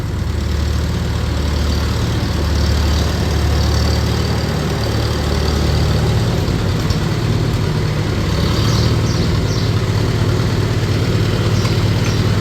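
A 1948 Farmall C tractor engine idles steadily and loudly close by, a low, even rumble that holds for the whole stretch with no talk over it.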